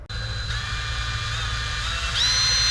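A power drill bores a hole into a Niewiadów N126 camper trailer, a steady close whine running throughout and rising in pitch near the end, no talk.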